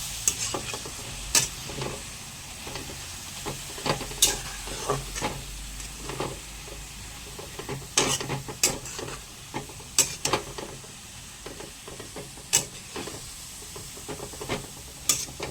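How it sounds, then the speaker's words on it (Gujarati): Grated carrots fry in ghee over a low flame for carrot halwa, giving a soft continuous sizzle with repeated sharp scraping stirs at an uneven pace, close to the pan. "ગેસ તો આપણે ધીમો જ રાખવાનો છે જેથી કરીને ગાજર બરોબર તળી જાય"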